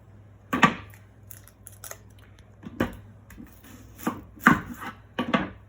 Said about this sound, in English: Okay, so we are going to chop the onion.